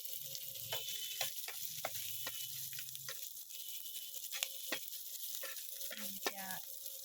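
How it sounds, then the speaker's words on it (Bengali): Garlic frying in oil in a pan gives a soft, steady sizzle, with sharp spatula clicks and scrapes against the pan at irregular intervals throughout, fairly quiet and heard alone. "একটু লাল লাল করে ভেজে নিলাম এখন আমরা রসুন দিয়ে নিলাম"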